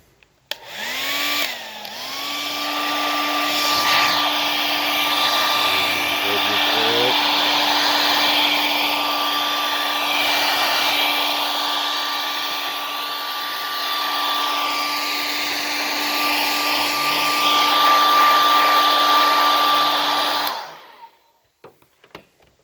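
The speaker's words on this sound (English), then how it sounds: "What I used was a blow dryer and that piece of rope." A blow dryer whirs steadily for about twenty seconds with a constant high whine while used to remove a car window rain guard, then shuts off abruptly.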